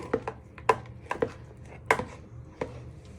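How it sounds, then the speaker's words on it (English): A spatula spreads mascarpone cream over lady fingers for tiramisu, producing a handful of sharp taps and scrapes against the dish at uneven intervals, close and quiet, with no talk. "Now you're just spreading it out again using your spatula."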